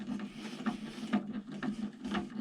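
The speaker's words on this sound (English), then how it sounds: "Put the screw in and thread it all the way down." Screw being threaded down into a clip hole on an RV sink, giving a steady run of small mechanical ratcheting clicks and scratchy turns over a low hum, close up with no talking.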